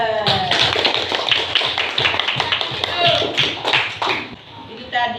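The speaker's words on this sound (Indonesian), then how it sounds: "Kita berikan aplaus." Students in a classroom break into a burst of applause, with many hands clapping together in a dense, lively patter. Voices talk and call out over the clapping throughout.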